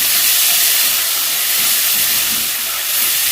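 Finely chopped onion sizzles in a frying pan, producing a loud, steady, close hiss of frying that stays constant throughout with no talking.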